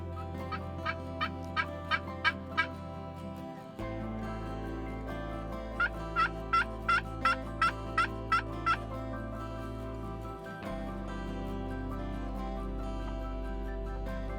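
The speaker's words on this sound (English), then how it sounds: "There were a fair amount of gobbles, but they were all in the distance" Wild turkeys gobble in the distance during a spring hunt at High Falls, two bursts of rapid, repeated rattling gobbles standing out over a low, steady background hum.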